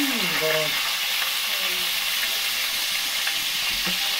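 Chopped tomato frying in a pan, a loud, continuous, even sizzle close by, with a brief faint voice at the start.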